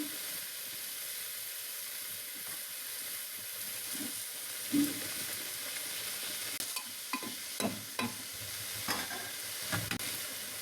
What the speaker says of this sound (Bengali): আদা কুচি রসুন কুচি দিয়ে দিলাম, এগুলো দিয়ে দিচ্ছি